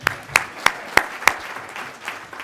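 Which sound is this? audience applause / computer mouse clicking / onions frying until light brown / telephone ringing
audience applause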